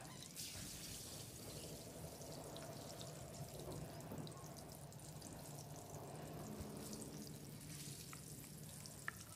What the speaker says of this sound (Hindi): टमाटर जो है इन्हें भी हम फ्राई कर देंगे